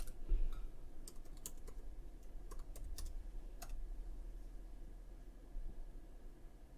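Fingers typing a password on a Mac keyboard in the terminal, a scattered run of light key clicks over a faint steady background hiss, no talking.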